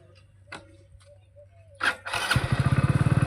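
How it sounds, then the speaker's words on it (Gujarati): A motorcycle parked outdoors is kick-started: a few faint clicks and a swish, then the engine catches and settles into a loud, close, rapid idle putter. "હવે આ બાઇક સ્ટાર્ટ કરી રહ્યા છીએ।"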